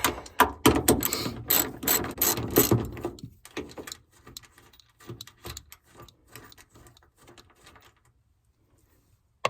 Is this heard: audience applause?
no